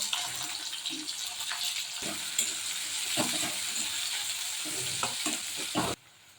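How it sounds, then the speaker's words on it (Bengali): Whole garam masala and chopped onion hiss and sizzle in hot oil and ghee for a soya veg biryani, a steady close frying crackle with occasional stirring clinks, cutting off abruptly near the end. "এতে গোটা গরম মশলা দিয়ে দেবো, পেঁয়াজ কুচি দিয়ে দেবো।"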